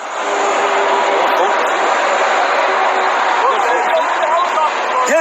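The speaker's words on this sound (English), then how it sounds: "there's helicopters all over right now" A loud, constant roar of aircraft overhead fills the whole stretch, with distant voices and shouting mixed in.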